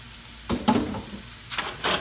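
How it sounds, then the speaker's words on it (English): Lemon juice poured into a pan of sizzling garlic for shrimp scampi, giving short bursts of hissing and spattering close up over a low steady fry, with no talking. "Now I'm going to hit it with my lemon juice"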